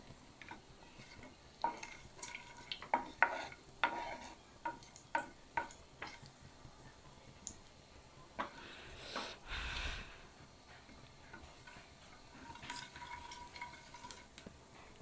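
Cumin seeds crackle in hot oil in a home kitchen pan, with irregular sharp pops and spits over a low sizzle, plus a few light clinks of a utensil against the pan.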